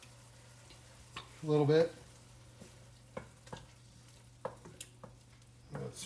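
Tomato purée from a large 28-ounce can hits a hot pan in a galley kitchen, giving one short loud sizzling burst followed by scattered clicks and light stirring sounds, with a brief spoken remark.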